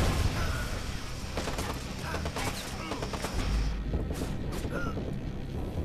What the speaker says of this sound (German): Und dann müssen die natürlich wieder mit ihren scheiß Granaten kommen